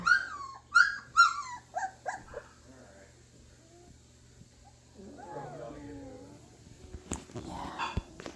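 Young puppies in a pen yipping and whimpering in short high cries, then a stretch of softer whining and a few sharper yips near the end, with someone speaking softly over them.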